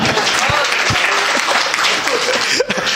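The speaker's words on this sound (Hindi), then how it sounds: "तालियां हो जाए एक बार, बहुत अच्छा।" Dense, steady applause from the audience at a Hindi comedy poetry gathering, many hands clapping together in a loud, continuous wash with a few faint voices underneath.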